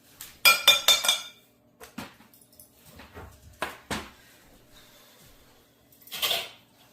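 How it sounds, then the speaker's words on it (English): Banana, vanilla and egg mixed in a bowl make a quick run of bright utensil clinks against the bowl at the start, then scattered softer taps and scrapes, with a final clattering burst near the end. "now we're gonna mix this banana vanilla egg till it's fluffy, creamy, fluffy"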